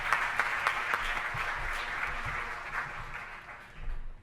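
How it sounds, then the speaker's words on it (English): An audience at a state-level education forum applauds with steady clapping throughout, tapering slightly toward the end, with no speech over it. "Let's give them a round of applause."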